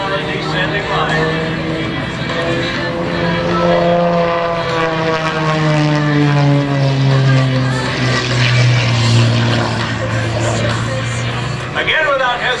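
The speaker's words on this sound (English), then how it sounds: "transitioning into a torque roll, backing up the aircraft" An aerobatic propeller airplane at an air show drones loud and continuous through a torque roll, its engine pitch sliding down and up in long sweeps, with an announcer talking over it.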